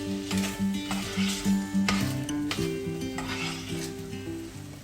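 Sweet pongal with nutmeg stirred in a pan, a spoon scraping and swishing in rhythmic strokes over a soft sizzle, close and clear with no voices.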